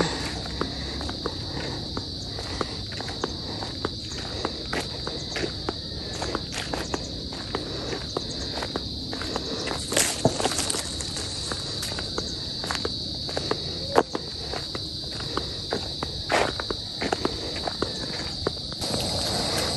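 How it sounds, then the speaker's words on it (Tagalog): Crickets chirp continuously on a quiet afternoon near a garden hut, a steady high-pitched drone with faint shuffling footsteps and scattered clicks underneath. "Ang maririnig mo lang po dito ay huni ng kuliglig kapag ganitong hapon."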